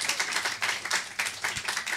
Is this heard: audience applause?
yes